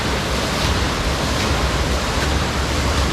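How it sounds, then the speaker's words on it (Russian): Artificial waterfall pouring into a hotel swimming pool, a steady, dense rush of falling water heard close and loud, unbroken for the whole stretch with no voices. "такой импровизированный водопад. Можно пройти в воду и получить массаж от падающей воды"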